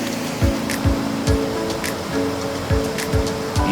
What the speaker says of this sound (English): you're steps away from the 150-foot waterfall.